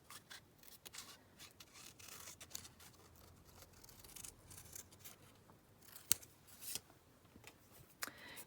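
Scissors snipping through a page cut from an old book, soft close cutting and rubbing sounds with a few sharper snips, quiet and alone.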